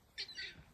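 Backyard chickens squawk loudly in a brief burst of two or three shrill, raspy cries, fairly close and alone without talk.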